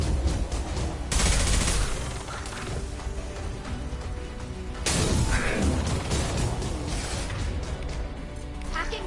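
Sustained gunfire in the Mass Effect 2 video game, dense bursts of shots and impacts throughout, swelling louder around the start and middle, with a voice speaking over the combat.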